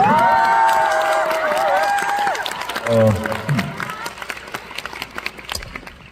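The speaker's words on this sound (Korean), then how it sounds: "박수 부탁드립니다" Cheering and clapping from a concert audience in Busan, with voices calling out over it, fading into scattered claps as a person speaks briefly.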